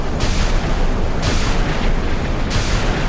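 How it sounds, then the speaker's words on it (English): SM-2 missiles launching from the vertical launch cells of the battleship USS Iowa in a naval combat game, a loud, sustained roaring rush with three surging bursts in quick succession. "Looks like SM2's being fired."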